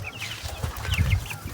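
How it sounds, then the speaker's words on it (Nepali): A black hen clucks in a short run of soft, low calls with a few higher chirps, close by and steady, with no voices. "यहाँ चाहिँ कालो कुखुरा"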